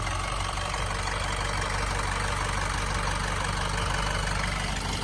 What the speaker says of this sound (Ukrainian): Двигун працює рівненько, гарненько, не димить.